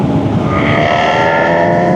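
A Honda CB1000 Hornet's engine revs high on a countryside road during a test ride, a loud, steady, close-up whine with sustained rising harmonics.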